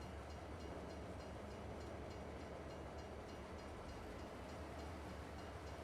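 A freight train loaded with canola pulls away in a farming video game on the Griffin Indiana map, heard as a faint, steady rumble of rolling wagons with a low, continuous hum and no talking.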